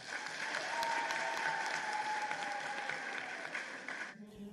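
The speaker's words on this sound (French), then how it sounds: "Il faut l'applaudir." Sustained applause from an audience at a political gathering in Benin, a dense, even clatter of clapping hands lasting about four seconds before cutting off abruptly.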